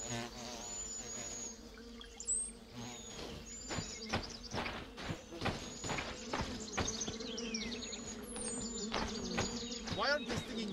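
Swarming bees buzz and dive in an attack within the video game The Vale, a dense, close insect drone with sharp whizzing passes and thuds of movement, overlaid on continuous game ambience.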